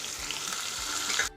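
Sliced onion, curry leaves and green chili fry in hot oil with a close, steady crackling sizzle that lasts over a second and then stops abruptly.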